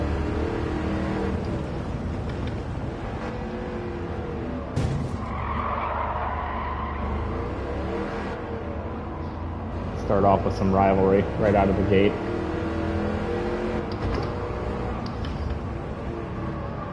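Old muscle car engine, a Pontiac GTO Judge in Gran Turismo 7, droning and revving steadily with tire squeal during a race, heard under someone talking throughout.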